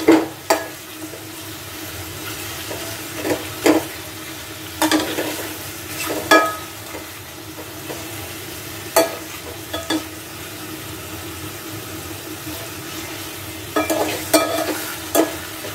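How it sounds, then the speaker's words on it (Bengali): Bitter gourd fries in a little oil with a pinch of turmeric. A continuous soft sizzle runs throughout, broken by repeated sharp spatula scrapes and taps against the pan at an irregular pace. "একটু তেলে ভেজে নিব।"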